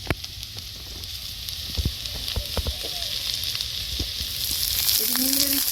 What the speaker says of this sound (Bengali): এবার কড়ার মধ্যে দিয়ে দেবো। কাঁচা লঙ্কা পেঁয়াজ কুচি দিয়ে দিচ্ছি।